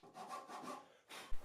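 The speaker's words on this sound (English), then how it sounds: "went back to more sawing and chiseling" Hand saw cutting Sapelli hardwood for workbench dovetails, a steady back-and-forth rasping of several close strokes, then a short pause and a final stroke ending in a low knock.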